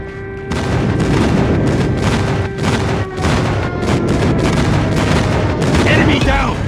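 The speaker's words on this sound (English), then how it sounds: "Friendly airstrike incoming." Continuous rumbling booms of an airstrike mixed with gunfire in Call of Duty Mobile, loud and sustained throughout with short shots cutting through, and brief voice callouts.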